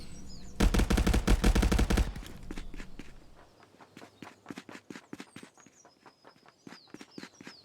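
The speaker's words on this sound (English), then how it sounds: "You can hear those footsteps." Footsteps in the VR shooter ContractorsVR, a rapid run of steady steps following a loud burst of automatic gunfire, the treads continuing moderately close and even.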